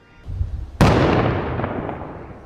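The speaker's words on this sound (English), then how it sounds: "Each explosion bigger and louder than the last." Controlled detonation by a police tactical and bomb unit on a city street, heard from a hillside across a road: a sharp, powerful blast that rolls into a long, decaying rumble, with fainter low thumps just before it.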